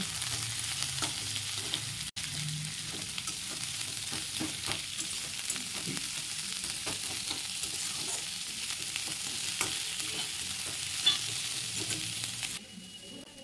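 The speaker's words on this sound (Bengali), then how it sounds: "আর দেখো পেঁয়াজ আর লঙ্কাটাও দিয়ে নিয়েছি, এবার সেগুলো একটু ভেজে নেব।" Onions and green chillies frying in a pan, a steady faint sizzle throughout with a few light scrapes, close and even, no voices.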